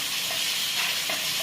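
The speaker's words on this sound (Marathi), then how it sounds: "इथे आपले सर्व पापलेट छान फ्राय झालेले आहेत." Pomfret fillets frying in a pan, giving a steady, dense hiss of sizzling oil that runs evenly throughout at moderate loudness, with faint soft pops rising now and then.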